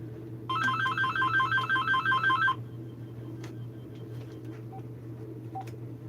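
A telephone rings with a rapid trilling electronic tone for about two seconds, then stops, leaving a steady low hum and faint ticks.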